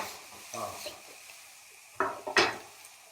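Lamb shanks browning in avocado oil in a pot: soft sizzling with a few scraping, clattering stirs of a utensil, and brief faint talk near the start.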